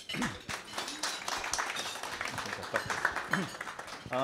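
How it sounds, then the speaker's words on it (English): Audience applause welcoming a speaker at a UNDP evaluation week event, a dense wash of many hands clapping filling the room, with some voices and murmurs mixed underneath. "please welcome him with a big round of applause"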